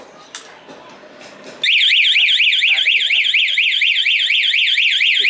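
A loud DTX vehicle anti-theft alarm wails in a rapid rising-and-falling siren pattern, kicking in abruptly after some faint background noise and sounding continuously close by.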